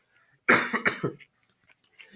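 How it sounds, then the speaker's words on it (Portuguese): A lecturer coughs during a history class, a short cluster of three or four rough, throaty bursts close by, trailing off into quiet clicks and breaths. "Com licença que eu vou dar uma tossida"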